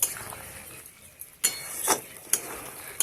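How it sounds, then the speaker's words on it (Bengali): Fried potatoes being stirred with spices in a pan for a vegetarian potato curry, with a soft scraping sizzle broken by several light clinks of a utensil against the pan. "দেখুন আলুগুলো দিয়ে ভালো করে আমি নেড়ে চেড়ে মশলার সাথে মিশিয়ে দেবো।"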